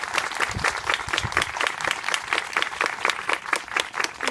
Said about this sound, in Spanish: Yo quiero pedir un aplauso muy especial para